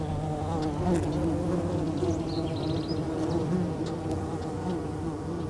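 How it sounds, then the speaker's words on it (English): Copolicana bees with hairy, colorful bodies buzz continuously around their tiny burrow colony in the Atacama desert, a dense, steady, close hum of many insects with no voices. "The Copolicana bees have hairy, colorful bodies and constantly buzz around their tiny colony."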